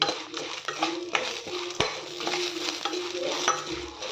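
Curry leaves and dry red chillies dry-roast in a pan, with rhythmic scraping stirs, metallic spatula clinks and a soft rustling crackle, close and moderately quiet.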